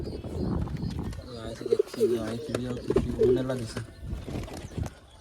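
Pigeons in a cage coo in soft, throaty repeated calls, close at hand, with someone speaking over and between the coos.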